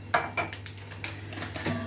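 Utensil scraping and clinking against a bowl as flour, soda and baking powder are mixed for a chocolate cake, a few sharp knocks followed by softer stirring, close and alone.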